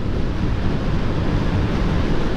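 Strong wind roars steadily into the microphone on a road trip, a loud continuous buffeting rush with no pauses.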